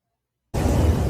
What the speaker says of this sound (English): the terrifying rumbling sound of explosions sent this tour group scrambling